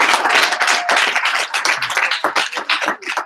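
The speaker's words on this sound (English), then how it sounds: "Let's give our fearless leader a round of applause, Trey Ketchum" Loud, close applause and cheering from a group at an alliance meeting, with dense clapping that thins into individual claps toward the end, some voices mixed in.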